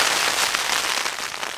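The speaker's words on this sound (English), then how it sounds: "You can hear, you know, pouring down the rain." Heavy rain pours down on a stormy night at a wild camp by a ravine between mountains. It is a dense, steady, close hiss of drops drumming on a tent, loud and continuous with no talking.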